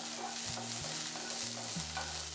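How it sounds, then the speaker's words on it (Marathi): Peas roasting in a pan with half a spoon of oil, giving a steady close sizzle with scraping stirs and a low hum running beneath throughout. "आपण त्याच्यामध्ये फक्त अर्धा चमचा थोडंसं तेल घालून घेणार आहे, ते व्यवस्थित भाजून घ्यायचे"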